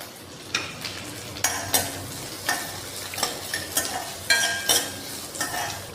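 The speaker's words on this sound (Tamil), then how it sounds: "வெங்காயம் நல்லா வதங்கிடுச்சுங்க" Oil sizzles steadily in a pan as small onions and curry leaves sauté with dried red chillies, while a utensil stirs and scrapes in irregular bursts, close up, with no talking.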